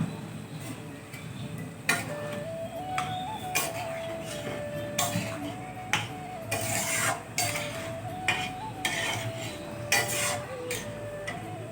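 Boiled tarka lentils go into a pan and are stirred: repeated scraping and clinking strokes of a spoon against the pan at a loose, irregular rhythm over a low, fairly quiet simmering hiss.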